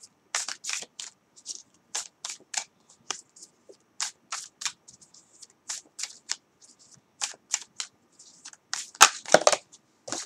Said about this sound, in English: Keep on shuffling.